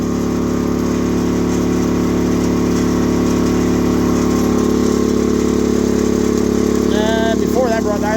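A 50cc Icebear Maddog engine idles high at around 4,000 RPM, giving a steady, loud, unbroken drone that holds even throughout, with a brief faint squeak near the end.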